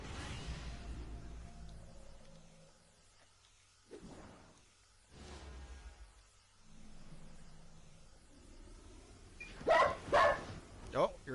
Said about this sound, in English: Oh, your dog is getting crazy.